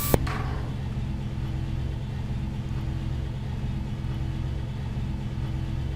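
Pushback tug engine from a flight simulator ground services pack for Prepar3D v4.4, a steady low idling rumble held close and constant throughout after a brief click at the start.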